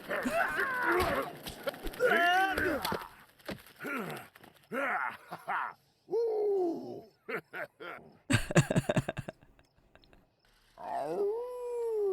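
A werewolf character in The Sims howls during a rampage, a series of drawn-out, wavering howls and yelps that rise and fall in bursts separated by short gaps, loud and close, with a moment of noisy clatter in the middle.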